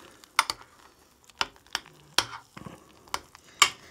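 A rehydrated freeze-dried backcountry meal being stirred in its pouch: quiet, with a series of sharp irregular crinkles and scraping knocks spread across the moment, no talk.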